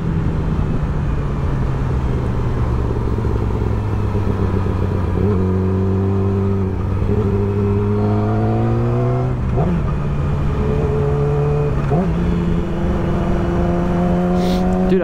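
A 600cc motorcycle ridden along a street, its engine droning loudly and close with repeated rising revs through gear changes over constant wind noise.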